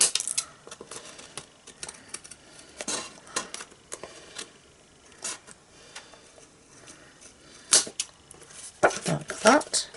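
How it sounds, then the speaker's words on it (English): Scissors trim the overhanging card stock on a handmade greeting card, giving soft, close snips and paper rustles spread unevenly across the stretch, with sharper crisp cuts bunched toward the end. "I'm just going to use my scissors here to trim off the overhang"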